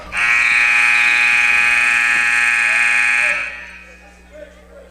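A basketball game clock buzzer sounds at a girls' basketball game, one loud sustained blare lasting over three seconds before cutting off, leaving quiet gym noise.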